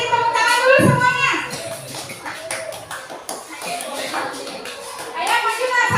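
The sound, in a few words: class of children clapping hands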